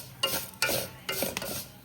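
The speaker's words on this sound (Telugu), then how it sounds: "ఇలాగ దోరగా నేతిలో వేపుకోవాలండి సేమియాలు." Vermicelli frying in ghee while being stirred for coconut payasam, a quiet sizzle with three or four short scraping strokes of a spoon against the pan, close by.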